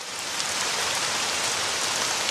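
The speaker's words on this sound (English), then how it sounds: "So right now it's raining" Steady rain falls at a drag racing event in Russia, a dense, even hiss of drops close by that holds without pause.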